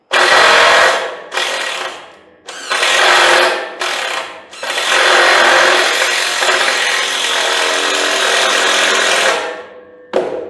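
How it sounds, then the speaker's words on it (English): A power drill sinks screws into the wooden decking of a homemade trailer in several loud whirring bursts, short ones first and then one long sustained run before stopping. "Sink them down. I may need to go up 1 notch on my drill bit."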